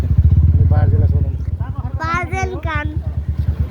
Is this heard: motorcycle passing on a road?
yes